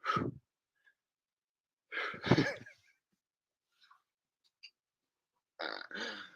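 A person breathes heavily to catch their breath after exertion, with three loud, close exhales or sighs separated by long silent gaps and a few tiny mouth noises between.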